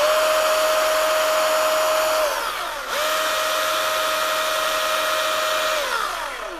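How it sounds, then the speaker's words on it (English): Milwaukee M18 FUEL 16-inch battery chainsaw running free to oil the chain, a loud close electric whine that holds steady, dips briefly as the trigger is released, then spins back up and winds down again. "Want to run this blade for a few seconds to get the oil in there."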